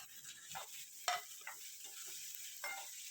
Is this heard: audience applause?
no